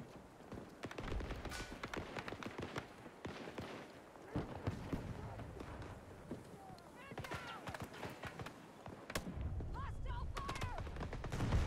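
Gunfire in the Battlefield 2042 video game: scattered shots and bursts of varying distance and loudness, with a player talking over the action throughout.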